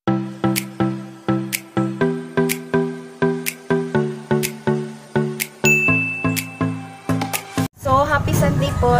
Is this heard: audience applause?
no